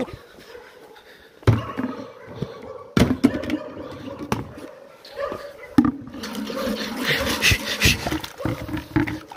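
Several dogs bark, yelp and scuffle in sharp, irregular bursts during a dog fight, loud and close, with a commotion of noise throughout.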